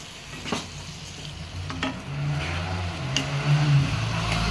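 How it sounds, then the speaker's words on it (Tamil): Gentle scraping and stirring of peas in a frying pan under a steady low sizzle, with a few soft clinks of a spoon against the metal. "உப்பு போட்டுட்டு பட்டாணியும் கொட்டிடலாம். இப்போ நல்லா கிளறி விட்டுட்டு"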